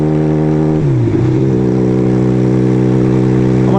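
A motorcycle engine revs loudly and continuously; its pitch suddenly dips and wavers as a gear shift is missed, then settles and climbs again.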